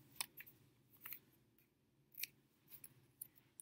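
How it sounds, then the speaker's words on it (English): Scissors snip through a paper letter M in a handful of quiet, separate crisp cuts over a low background hum, with no one speaking. "So I'll cut out my M."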